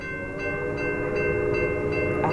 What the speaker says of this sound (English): It's actually her whistle. Listen.